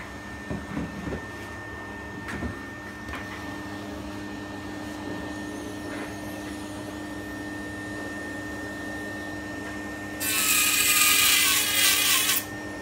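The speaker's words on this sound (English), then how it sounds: "I'll just turn the extraction on." Workshop dust extraction running as a steady low hum with faint scraping of a carbide tool on a tray, then a loud bright rush of air kicks in near the end, with no talking.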